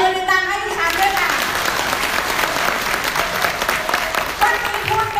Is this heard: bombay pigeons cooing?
no